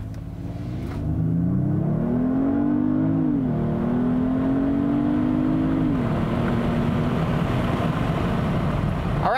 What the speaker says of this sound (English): we're going to try a run, and we're going to see what this car can do on our roads